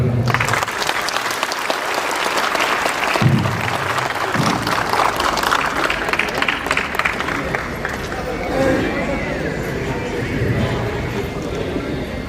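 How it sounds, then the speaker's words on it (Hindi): Audience applause at a motivational speech event in Bhilwara, Rajasthan: steady, dense clapping from a crowd filling the room for about twelve seconds, with some voices murmuring underneath. "आपको जोरदार ताली।"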